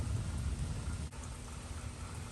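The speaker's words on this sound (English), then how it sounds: "the rain comes in." Steady rain falls with a dense low rumble of thunder underneath, a continuous hiss and roar with no voices, heard during a storm while a cheap Jeep bought off Marketplace awaits work.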